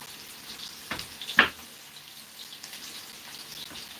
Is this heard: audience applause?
no